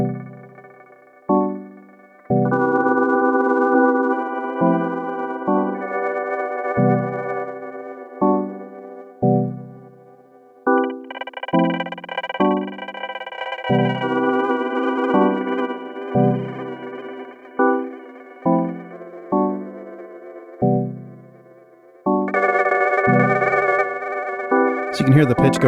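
Pladask Elektrisk Baklengs granular pedal with modulation depth added to the wet signal, giving a series of repeated plucked notes whose pitch wobbles and drifts, sustained shimmering tones swelling between attacks, close and alone without talk.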